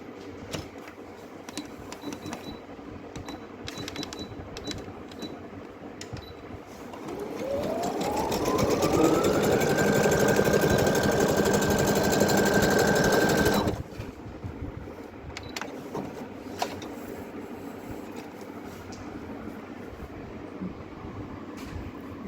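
Brother DS1300 computerized sewing machine stitching fabric, a steady motorized hum that rises in pitch as it speeds up and runs for several seconds before stopping, surrounded by quieter room noise and small clicks.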